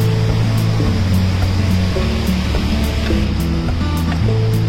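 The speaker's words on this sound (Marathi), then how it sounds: "आणि हा तो वॉटरफॉल." Waterfall water rushing under a bridge at Mount Rainier National Park, a loud, continuous broadband roar filling the whole clip, close and unbroken.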